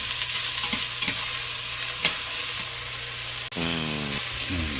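Onions frying in oil in a pan for a pasta with meatballs dish, a steady close sizzle with a few stirring scrapes and a brief clatter near the end.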